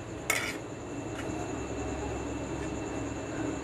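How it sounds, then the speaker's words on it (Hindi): Quail pieces clatter into a large cooking pot in a village kitchen, with a sharp metallic burst near the start, a couple of fainter clinks after, and a steady low background hum. "ये जो पीसेस बने हुए हैं बटेरों के, इसको हम पहले बर्तन बड़े में डालेंगे।"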